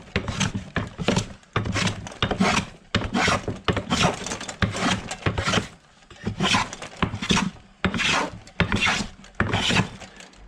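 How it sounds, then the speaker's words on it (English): A Stanley 78 scrub plane takes thick shavings off a wooden board in repeated close, loud rasping strokes, each a coarse scraping burst separated by short pauses in a steady back-and-forth rhythm. "that's starting to pick up some good thick shavings now"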